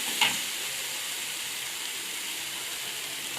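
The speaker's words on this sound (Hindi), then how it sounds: "लहसुन अदरक का पेस्ट हमारा भून चुका है। अब हम इसमें सूखे मसाले शामिल कर देंगे। हल्का सा भूनेंगे हम इसे," Garlic ginger paste fries with dry spices in a pan, giving a soft, steady sizzle throughout with one brief crackle near the start and no talking.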